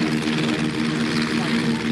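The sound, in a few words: Rafale fighter jet at an air show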